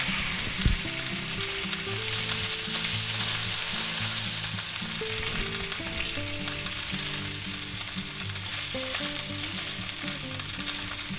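Sous vide pork chops stood on their edges sear in a hot pan, producing a loud, constant near sizzle from start to finish, opening with a brief knock and with no voices.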